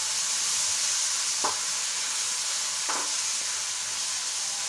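Prawn masala with softened tomato sizzles and fries in a pan, giving a continuous loud hiss. Two brief scraping stirs land a second or so apart.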